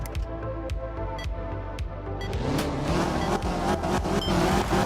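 A rally car engine in the video game art of rally revs and drones loudly, with gear changes shifting its pitch and the note rising as it accelerates, heard alone and up close.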